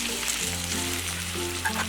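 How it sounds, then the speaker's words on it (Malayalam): Irani pola batter, a Malabar snack, sizzles and fries steadily in a hot pan, a continuous close crackling hiss with a low hum beneath and no talking. "ഇനി ഇത് ചൂടായ ഈ പാനിലേക്ക് വെച്ചിട്ട് തന്നെ ഇതുപോലെ വേവിച്ചെടുക്കാം."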